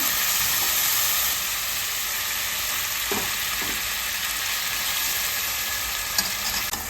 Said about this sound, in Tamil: அந்த இஞ்சி பூண்டு வாசம் வந்து பச்சை வாசம் போகிற வரைக்கும் நல்லா வதக்கிக்கோங்க